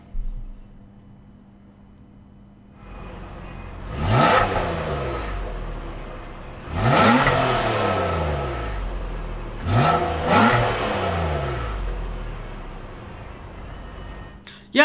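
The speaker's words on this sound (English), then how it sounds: "this is still a very good sedan engine, and it's not turbocharged" A naturally aspirated 2017 Nissan Maxima sedan engine revs hard three times from a low idle, each burst climbing sharply and falling back, loud and close with no talking.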